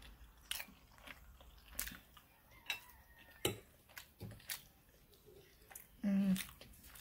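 Plantain eaten with cutlery: a few scattered utensil clicks and scrapes against a plate with soft chewing and biting sounds between them, quiet and close, with a brief voiced murmur near the end.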